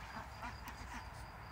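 Ducks, including a large Rouen hen, quack in a backyard poultry flock, giving a few faint quick calls against quiet outdoor background noise.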